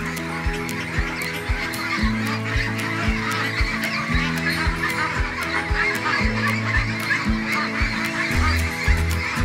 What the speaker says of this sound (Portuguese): O som dos patos na granja pode até ser estridente nos dias finais da criação